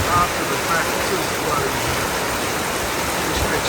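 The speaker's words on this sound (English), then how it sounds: "It's been pouring down for hours, solid full-on rain." Heavy rain pouring down for hours during the Hawkesbury River flood, a loud, dense, continuous hiss of water with no break.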